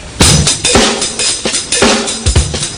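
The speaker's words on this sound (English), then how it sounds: "And you can mess with the hi-hat." During a drum masterclass, a drummer plays a short groove on his kit, varying the hi-hat with bright, sizzling open and closed strokes over steady kick and snare hits, loud and up close.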